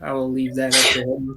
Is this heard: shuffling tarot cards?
no